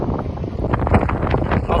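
Gusty wind buffets the microphone beside the flooded, fast-flowing River Severn in Worcester, a loud, continuous rough roar.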